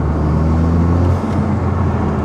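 A Toyota GR Yaris three-cylinder engine fitted with an induction kit and an aftermarket exhaust gives a loud, steady, close low drone with a gruff rumble. It runs continuously without pauses.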